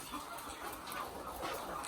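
Chickens cluck softly at a distance against quiet background noise, with brief scattered calls and no speech.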